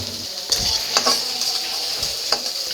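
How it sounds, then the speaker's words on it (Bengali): Crushed garlic and chopped chillies fry in oil in a pan for red amaranth leaves, sizzling steadily and close, with a few sharp stirring scrapes and knocks of a utensil. "আমি এখন ভালো করে মশলাটা ভেজে নেব"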